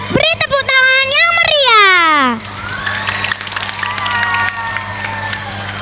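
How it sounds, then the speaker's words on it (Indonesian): An audience at a large Maulid Nabi religious gathering applauds and cheers as a loud voice rises over it, then clapping and crowd noise continue steadily. "beri tepuk tangan yang meriah"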